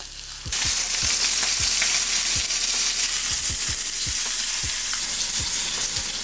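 Meat searing in a hot skillet, a loud, dense sizzle that starts abruptly and holds steady, with repeated thuds and scrapes as the pieces are moved around.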